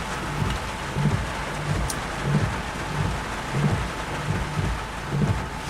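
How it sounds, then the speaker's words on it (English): A July thunderstorm in Florida: steady heavy rain hisses throughout while low thunder rumbles roll in repeatedly, loud and close, with no voices. "the storm is more to the east"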